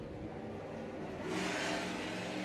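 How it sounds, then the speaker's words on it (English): A big block Ford Galaxy race car at a historic sprint meeting revs its engine, a steady mid-pitched roar that swells louder and brighter partway through. "The big block Ford Galaxy making smoke and making noise."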